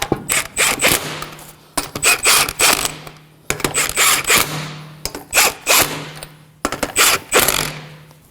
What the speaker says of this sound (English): Here we're gonna torque down the wheel to 80 foot-pounds in a star pattern